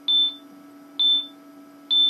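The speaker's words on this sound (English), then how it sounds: "Sorry about the beeping." A replica sentry turret from the Portal game emits three evenly spaced high electronic beeps, each a short bright tone about a second apart, loud and clear over a faint steady hum.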